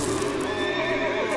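A frightened horse whinnies loudly and close by, a sustained neigh running the whole moment with a faint clop of hooves underneath.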